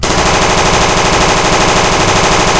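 Toy M16 rifle firing a continuous rapid electronic burst of automatic gunfire effects, loud and steady for nearly three seconds with no pauses.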